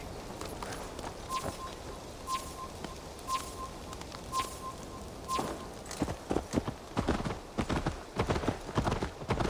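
Horse hooves clip-clop steadily at a walk in the video game Assassin's Creed Valhalla, with faint beeping tones early on; the hoofbeats grow louder and quicker toward the end.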